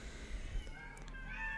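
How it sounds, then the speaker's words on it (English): Cats meow faintly inside a cave in the video game Excavation of Hob's Barrow, a few short mewing calls over a low ambient hum. "Why is the cave full of cats?"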